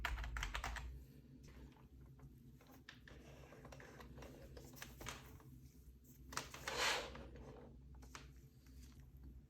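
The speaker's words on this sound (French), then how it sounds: "C'est un clavier mécanique qui garde ce bon vieux bruit de touche qui n'existe plus aujourd'hui." Keys clatter on a 1995 HP mechanical computer keyboard in quick, uneven clicky bursts close by and fairly quiet, over a faint steady hum.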